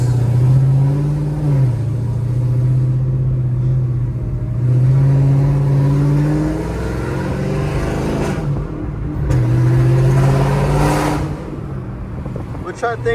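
A Dodge Challenger Hellcat Redeye engine rumbles close and loud with a deep, steady drone, swelling in a few revs before settling back, continuous throughout.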